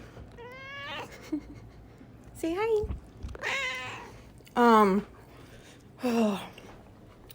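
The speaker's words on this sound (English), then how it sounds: "That's the cat if you heard her." A pet cat meows five times, short and fairly close, with someone speaking softly in between.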